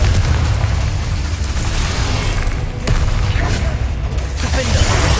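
Confringo blasting spell going off repeatedly in Hogwarts Legacy combat: a dense, loud stretch of booming bursts and pops with a brief dip midway, under faint spoken incantations.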